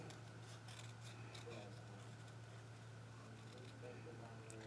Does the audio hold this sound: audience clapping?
no